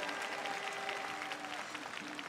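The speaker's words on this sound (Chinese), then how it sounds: "再次的给我们选手热情的掌声鼓励" Audience applause for singing-contest contestants at a live fan event, a steady dense wash of clapping held at even loudness for the whole stretch, with faint sustained tones running underneath.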